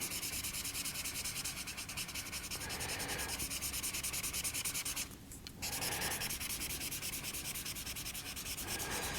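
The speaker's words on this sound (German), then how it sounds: "jetzt nehme ich mir hier einen Papierwischer" A paper blending stump rubs graphite pencil shading on drawing paper, a close, dry scratchy scrubbing in repeated back-and-forth strokes with a brief pause partway, no talk.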